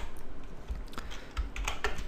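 Fast, close typing on a computer keyboard, irregular clicks and key taps in a quiet room, with no one talking.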